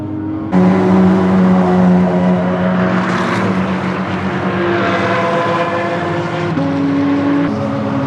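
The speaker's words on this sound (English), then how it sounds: "best sounding car of the day so far, Lamborghini SVR. That thing sounds wicked" A Lamborghini SVR roars past on the Laguna Seca track, its loud droning tone holding steady for several seconds before a gear shift near the end, with steady roar throughout.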